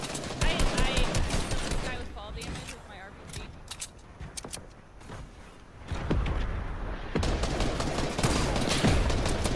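Bursts of gunfire sound in a Fortnite match, with rapid shots in clusters, loud at the start and again toward the end, while players talk over much of it.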